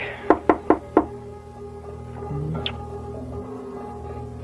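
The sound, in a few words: knocking on a door, radio play sound effect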